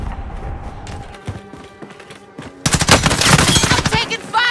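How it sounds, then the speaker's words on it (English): Gunfire in a Call of Duty Warzone zombies match at the prison complex, scattered shots and thumps at first, then loud sustained rapid machine-gun bursts close by. "I'm taking fire!"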